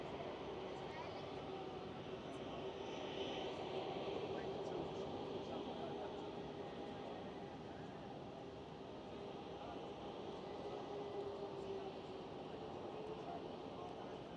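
A KLM Airbus A321neo jet airliner passes at Schiphol Amsterdam, giving a steady, sustained roar with a faint engine whine that holds throughout, while a voice talks over it.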